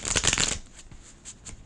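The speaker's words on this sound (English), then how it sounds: "One more shuffle, guys." A deck of tarot cards is shuffled close by, first in a dense riffling burst and then in a few lighter, scattered flicks and taps, with no one talking.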